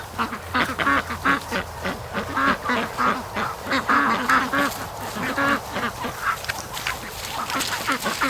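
Rouen ducks quacking loudly and often, close by, with a distressed young duck among them. The harsh, rapid quacks come in bursts over a low background hum, and no one speaks.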